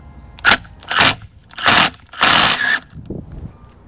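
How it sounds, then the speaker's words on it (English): Impact wrench loosening a 24mm bolt on a Subaru WRX/STI clutch slave cylinder, firing in four loud close bursts of hammering, the last one long and sustained, with short pauses between. "I'll use an impact to get this off nice and easy, slowly."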